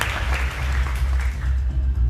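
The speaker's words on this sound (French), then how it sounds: "On peut les applaudir" Audience applause at a festival honoring Charles Aznavour, a dense steady wash of many hands clapping at moderate distance, sustained throughout with a low hum underneath.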